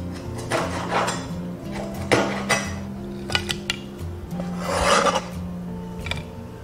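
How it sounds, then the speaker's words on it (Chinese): Knife cutting ribbonfish into small pieces on a board, with several close, sharp chopping knocks and scraping sounds at an uneven pace, under a low background hum. "把国产带鱼处理好， 切成小块。"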